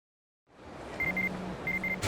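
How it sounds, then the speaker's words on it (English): A cell phone rings in the video game Yakuza 4 Remastered: two short paired electronic trills repeat twice over a low steady hum and ambient game noise, clear and close, with no talking. "Cell phone."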